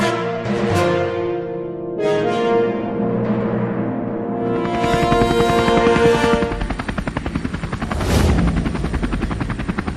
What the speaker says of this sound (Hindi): मेरे पास एक हेलीकॉप्टर है, चलो उससे ढूंढते हैं।